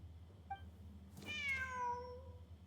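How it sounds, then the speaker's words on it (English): A single drawn-out cat meow from Genshin Impact rises and falls over about a second. It sounds quiet and slightly distant against a low background hum, with a tiny chirp just before it. "Wait, there it is! The cat!"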